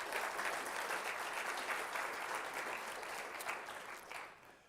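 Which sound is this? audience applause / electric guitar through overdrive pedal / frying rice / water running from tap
audience applause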